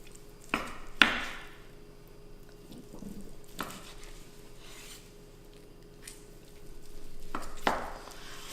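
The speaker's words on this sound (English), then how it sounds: "Get ready to make the slices in it." A knife slices cooked corned beef on a board, with a few distinct scraping strokes and soft taps spaced across the stretch, close and quiet over a faint steady hum.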